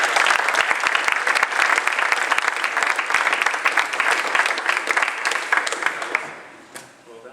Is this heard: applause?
yes